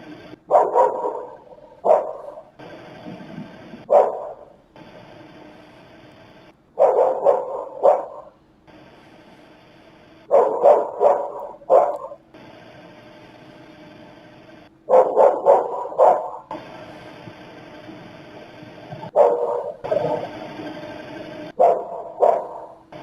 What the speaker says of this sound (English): the dog is still barking away. Just barking and barking.